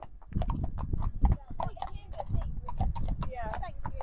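Horses' hooves clip-clop on a road in an uneven, close rhythm, with a horse snorting and people talking over the steps.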